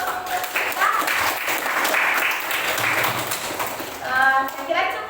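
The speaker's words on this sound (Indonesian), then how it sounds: "Mari kita berikan tepuk tangan aplaus untuk kita." A classroom audience claps and applauds after a group presentation on the production of coconut-shell goods, a dense wash of many hands close by with children's voices chattering underneath.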